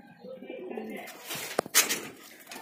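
A black Madrasi pigeon gives a soft low coo at close range, followed by a few sharp rustling and clattering noises.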